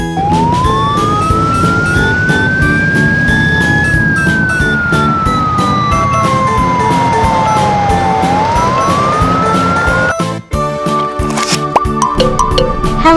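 A toy police car's siren wails steadily in one long rising and falling sweep, loud and close, then cuts to a brief busier burst of electronic tones.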